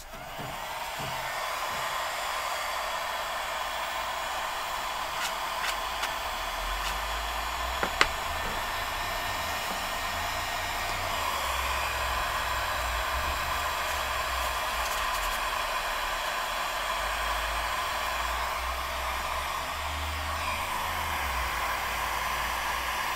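A hair dryer blows to dry ink on mixed media art cards, a loud, steady whooshing hum that runs unbroken and close throughout, with only a faint tap or two in the background.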